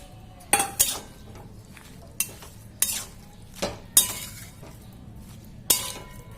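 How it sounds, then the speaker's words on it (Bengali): A spoon stirs a mustard paste mixture for murla fish bhapa in a bowl, producing about eight sharp clinks and scrapes at irregular intervals, close and distinct with quiet gaps and no talking. "ভালো করে মিক্সড করে দিচ্ছি"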